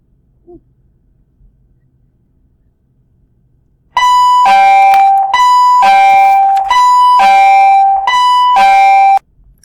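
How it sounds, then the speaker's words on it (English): A loud electronic school bell rings in a classroom in a repeating two-tone pattern for several seconds after a quiet start, harsh and close. "That bell is really loud in my classroom."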